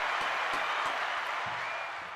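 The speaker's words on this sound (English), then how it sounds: "let's give a big round of applause" Steady applause from a crowd, a dense wash of clapping throughout.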